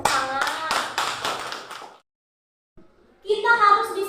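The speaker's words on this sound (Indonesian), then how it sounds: "Ya, tepuk tangan." A school class clapping hands together in a classroom, a series of sharp rhythmic claps for about two seconds, then a brief silence before children's voices and chatter come in.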